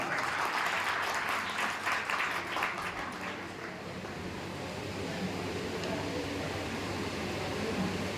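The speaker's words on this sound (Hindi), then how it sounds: "जोरदार तालियों के साथ आप उनका स्वागत करें" Audience at a medical college freshers' day applauds to welcome the new students: loud, dense clapping for about three and a half seconds, then fading into a steady room hum.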